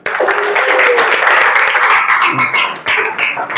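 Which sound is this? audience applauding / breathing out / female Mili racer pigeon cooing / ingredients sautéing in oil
audience applauding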